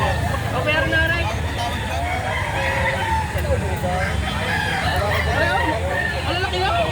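Roosters crow at a busy chicken market in Lipa City, Batangas, their calls rising over a constant crowd murmur, with people talking nearby and traffic in the background.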